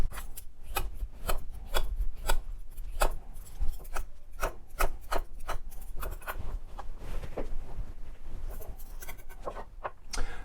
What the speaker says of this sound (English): Next is the cucumber, which also needs to get diced.